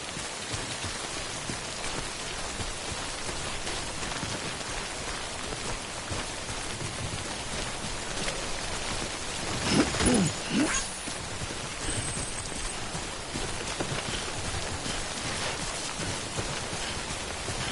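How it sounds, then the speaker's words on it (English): Heavy timefall rain in the Death Stranding game pours down as a steady, dense hiss of drops on surfaces, continuous for the whole stretch, with a brief louder rumble and splash rising near the middle. "Don't stay out in the rain any longer than you have to."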